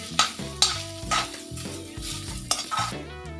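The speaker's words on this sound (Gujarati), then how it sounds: "આપણે એની અંદર બટેકું છીણેલું અંદર એડ કરીશું" Grated potato frying in ghee in a heavy pan: a steady sizzle broken by several sharp scraping stir strokes, close and fairly loud, with a low tonal hum underneath and no speech.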